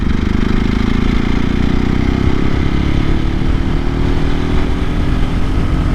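A 2024 KTM EXC-F 500 Six Days dual-sport motorcycle cruises in sixth gear at low speed, its single-cylinder engine a steady, loud, close drone with a slowly rising pitch and constant wind rush.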